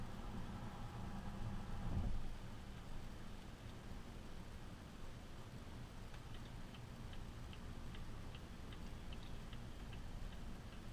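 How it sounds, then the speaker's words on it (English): Turn signal ticking inside a 2022 Volvo XC90 Recharge plug-in hybrid SUV while driving, a soft, crisp clicking styled after a snapping birch branch. The faint, evenly spaced ticks sit over steady road and cabin hum. "our turn signal sound is the sound of a Swedish birch branch breaking"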